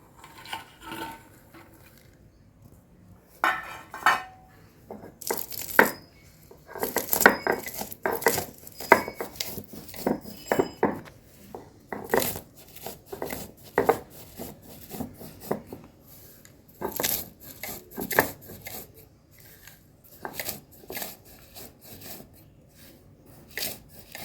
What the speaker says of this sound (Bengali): কিছুটা কাঁচা বাদাম একটুখানি ভেজে নিয়েছি এটাকে আমি এবার গুঁড়িয়ে নেবো